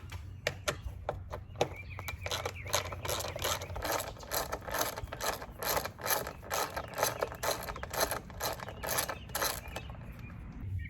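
A hand ratchet loosens the rear fender bolts on a Yamaha TW200 motorcycle, with rapid rhythmic clicking in quick bursts close up for about ten seconds.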